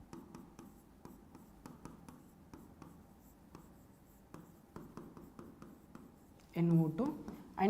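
Marker or chalk writing on a board in a chemistry lesson: steady scratchy strokes in short repeated runs, fairly quiet and close, with a voice speaking briefly near the end.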